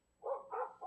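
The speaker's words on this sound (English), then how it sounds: "Dogs are barking." A couple of quick, faint barks from dogs in a Costa Rica setting, heard briefly and at a distance.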